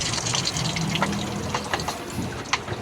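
Water gushes steadily from a tap during washing machine filter cleaning, a continuous close splashing flow with no talk.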